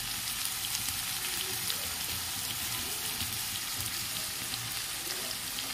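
Green chillies, garlic, onion and capsicum fry in a pan on a gas stove, giving a steady, even sizzle and crackle that continues throughout at moderate loudness, with no talking.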